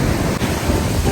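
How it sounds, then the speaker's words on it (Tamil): Ocean surf rolling onto a beach, a steady close wash of broadband noise with some wind buffeting the microphone and no distinct break. "ஃபுல்லாக வந்து பீச்சுக்கு தான் வந்திருக்கோம்."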